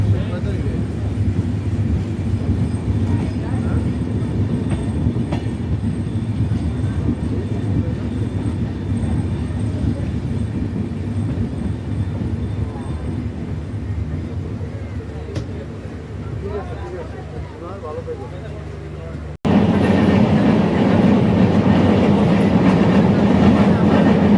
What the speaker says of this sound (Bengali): আমাদের ট্রেন কিন্তু এই মতো প্রবেশ করলো